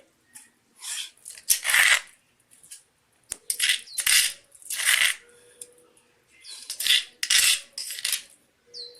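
A spoon scrapes and stirs ivy gourd chutney in a pan after a tempering of asafoetida and curry leaves, giving repeated bursts of metallic scraping separated by short quiet gaps, close and clear.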